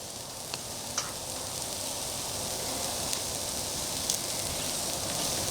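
Butter sizzles on a hot griddle during Eggs Benedict cooking, giving a steady, close frying hiss with faint crackles throughout and no talking.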